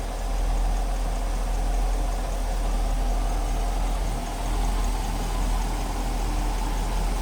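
A 1950 Buick Special Jetback Deluxe Sedanette's warmed-up engine idles smoothly and steadily, a continuous low rumble with a slight dip midway, close and alone.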